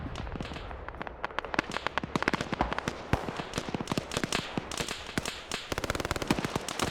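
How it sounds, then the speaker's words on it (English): Mortar barrage in a video game, a rapid dense rattle of sharp explosive cracks and pops going on without a break, close and punchy, with no talk over it. "We're going to do the mortar barrage on him."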